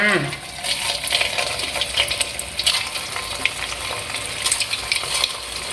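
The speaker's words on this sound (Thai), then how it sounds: "พอน้ำมันร้อน ใส่ขนมลงไปทอดเลยค่ะ" Taro snacks sizzle and crackle deep frying in hot oil over medium heat, a dense continuous frying hiss with popping bubbles, close up and fairly loud.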